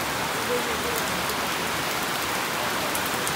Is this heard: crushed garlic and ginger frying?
no